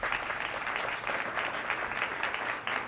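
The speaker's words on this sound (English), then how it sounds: "So I just want to give a round of applause for the work that they've done." An audience at an annual adoption celebration of the Louisiana Department of Children and Family Services claps steadily, a moderately loud wash of applause that fills the whole moment.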